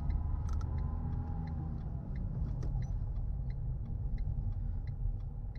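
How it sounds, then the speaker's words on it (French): A city bus pulls away from its stop in traffic, heard from inside a car during a driving lesson: a steady low engine rumble with a regular ticking indicator running throughout, and no voices. "Là, il y a un bus. D'accord, très bien. Qui démarre de son arrêt."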